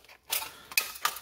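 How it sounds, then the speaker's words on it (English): Scissors snip through thin aluminum from a drink can in three short, crisp cuts, each a sharp metallic crunch after a brief quiet start. "This stuff's so thin, pretty much any pair of scissors will cut through it."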